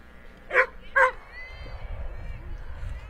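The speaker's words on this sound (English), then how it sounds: "the dog in the crowd appreciated that play" Two sharp, quick dog barks ring out from the crowd at a high school softball game, moderately distant, followed by low outdoor crowd murmur.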